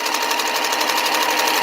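An M17 quilting sewing machine stitches in a fast, even, continuous whir with a fine rhythmic buzz, close and steady from start to finish.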